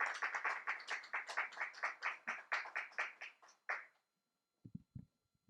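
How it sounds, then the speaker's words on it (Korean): A church congregation claps a welcome for a visiting pastor, a steady rhythmic applause of even beats that stops abruptly, leaving quiet with a few soft low thumps afterward. "나오실 때 여러분 큰 환영의 박수 주시기 바랍니다"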